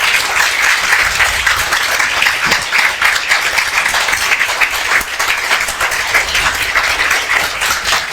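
A seated audience gives loud, sustained applause to welcome a speaker at a talk on the SSB interview process. Many hands clap densely and evenly, filling the room without a break, with a few sharper claps standing out.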